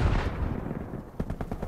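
Rapid bursts of long-range rifle fire from enemy snipers in a Call of Duty team deathmatch, sharp cracks clustered near the end over a dense, rumbling battlefield background.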